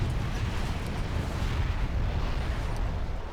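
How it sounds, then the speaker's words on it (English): A dense, loud rumbling explosion as a nuke cannon is destroyed in the Generals Evolution strategy game, a sustained low roar filling the whole moment with no speech. "goes boom as that nuke cannon gets eliminated"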